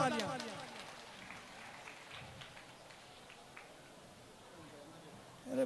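Applause for guests at a Jain festival tambola in Saharanpur, a soft crowd clapping heard at a distance after a voice on a loudspeaker, fading under continued talk.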